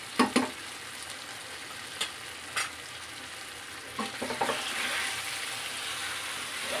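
Ground cumin, chili and turmeric frying in hot oil for dum aloo make a steady, crackling sizzle close by, with a few scrapes and knocks from stirring. The frying grows a little stronger toward the end.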